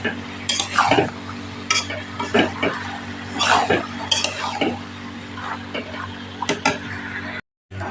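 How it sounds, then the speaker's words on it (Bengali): Peas being stir-fried in a pan with a spoon, giving repeated scraping strokes and light sizzling, close and fairly steady, with a brief dropout near the end. "মটরটাকে দেখো ভালো করে একটু কষিয়ে নেব"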